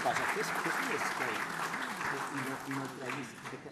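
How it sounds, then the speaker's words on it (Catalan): An audience at a public talk on territory and heritage applauds briefly and moderately, while a voice speaks over the clapping throughout. "Podeu aplaudir-lo si voleu"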